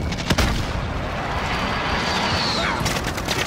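A grenade blast in the Call of Duty Warzone battle royale game, heard as a loud burst amid continuous gunfire and battlefield noise, with sharp transient pops near the start and end.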